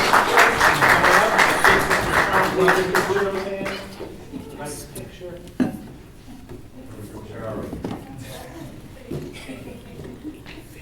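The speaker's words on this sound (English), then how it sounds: "All right, a big round of applause for Danielle." An audience at a board of education meeting claps for a certificate recipient in a burst of applause lasting a few seconds. It fades into a speaker talking, with scattered chuckles and taps.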